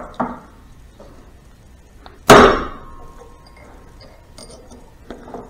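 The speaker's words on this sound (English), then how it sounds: "we get a punch and a hammer, and you need a real hammer for this." One sharp metallic clang from a hammer striking a punch on a drive gear inner bearing of a Harley 5-speed transmission, ringing briefly, surrounded by faint handling clicks in a quiet room.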